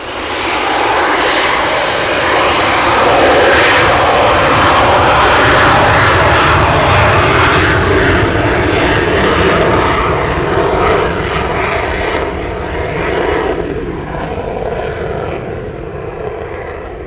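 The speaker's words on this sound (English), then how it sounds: "Now they're on the downwind leg to land." Aircraft at RAF Coningsby passing on the downwind leg to land, a loud sustained engine roar that swells and holds, then slowly fades and thins toward the end.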